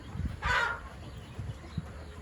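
A short burst of chicken clucking near the start, with a few low thumps and faint farmyard background around it.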